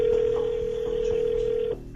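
A telephone tone sounds as a call is dialed, one steady unbroken pitch that cuts off sharply near the end over a faint low background.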